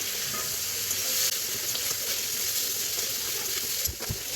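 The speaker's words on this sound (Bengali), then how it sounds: "আমার মশলা সব ভাজা হয়ে গেছে" Spices, lentil bori and bitter gourd frying in a pan: a loud, steady, close sizzle fills the whole stretch, with brief stirring knocks near the end and no talk.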